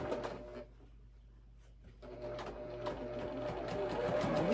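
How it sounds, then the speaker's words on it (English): Sewing machine running steadily while stitching quarter-inch seams down both sides of a quick gift project, operated standing at a table, a continuous mechanical whir with a brief lull midway before picking back up, close and moderately loud. "So we're just sewing down both sides"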